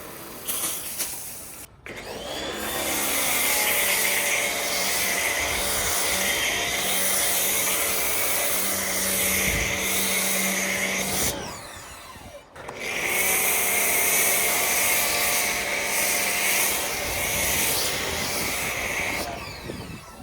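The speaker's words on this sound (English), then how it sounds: "I think that's a good starting point to use the pressure washer." Pressure washer rinsing a Honda Civic car, a loud, steady hissing spray with motor drone running in two long bursts separated by a brief pause.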